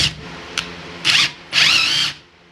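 A power drill whirs in two separate bursts, the second longer, as it drives a screw into a piece of wood near its end, with a small click just before the first burst.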